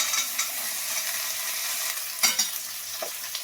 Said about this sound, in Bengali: এখানে আমার বেগুন পোস্তর জন্য পেঁয়াজ ক্যাপসিকাম সব কিছু আমি ভালো করে ভেজে নিচ্ছি